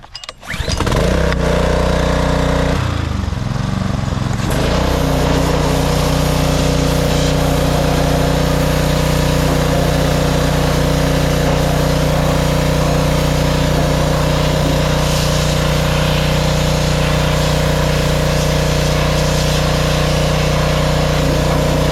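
A sand blaster pressure washer runs loud and steady, its engine droning with a strong harmonic hum after a brief stutter in the first seconds, then holding an even roar throughout with no voices.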